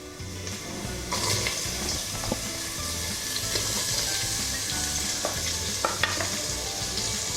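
Onions and shallots sautéing in a pan for Kerala-style duck roast, a dense, steady sizzle with occasional clinks and scrapes of a stirring utensil, close and continuous.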